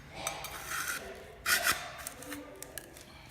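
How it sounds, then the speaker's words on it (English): A paint scraper scrapes thick plaster off a concrete floor in a few short, rough, raspy strokes, the loudest near the middle, with scattered small scuffs and clicks close by and no talking. "watch what happens here when we scrape it with the paint scraper"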